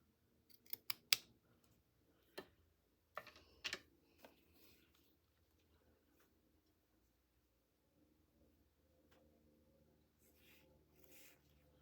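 Scissors cut a small lace snippet in a quiet room, a handful of crisp snips clustered near the start and a few more after, then near silence with faint rustling.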